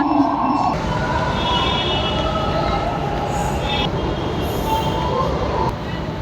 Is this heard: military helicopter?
no